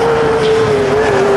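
Sprint car engine screams past at close range, a loud, steady high-pitched whine that sags slightly in pitch as the car goes by, with no talk.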